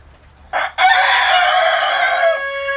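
A rooster crows loudly and close by inside a barn, one long sustained cock-a-doodle-doo rising after a short clucking lead-in and trailing off at the end.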